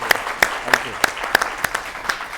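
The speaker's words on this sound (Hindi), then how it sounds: "जोरदार तालियां हो दमदार बनारसी जी के लिए।" Sparse, rhythmic claps at a Kavi Sammelan poetry gathering as a poet is welcomed, sharp individual hand claps spaced evenly about every third of a second, fairly near, with a faint voice or tone underneath.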